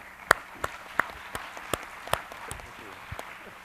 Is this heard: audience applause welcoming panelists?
yes